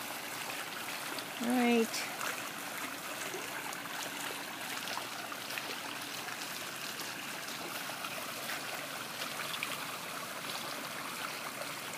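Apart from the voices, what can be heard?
water flowing out after a quick start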